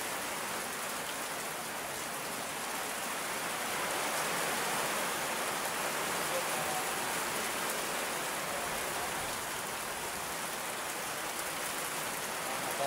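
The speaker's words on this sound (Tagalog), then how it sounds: "Lakas talaga ang ulan." Heavy rain pours steadily, a dense, loud hiss of drops hitting surfaces with no break and no voices.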